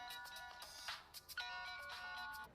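An electronic phone ringtone plays a bright, repeating melodic tune, fairly faint, with no voices.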